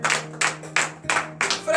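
A congregation at a morning prayer service in Benin claps in slow, regular bursts, about six loud rhythmic rounds with brief gaps between them and a low steady hum underneath.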